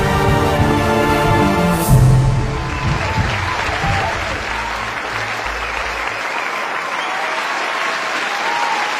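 Loud, sustained applause and cheering from a studio audience after a dance performance on a Tamil television show, a dense clapping wash that runs the full length with a brief musical ending at the start.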